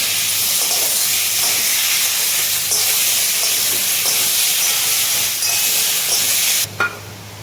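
Tomato goes into a hot pan of ground ginger, cumin and chili paste for a vegetarian mung dal curry, raising a loud, steady hiss of sizzling and steam that runs unbroken before cutting off abruptly near the end.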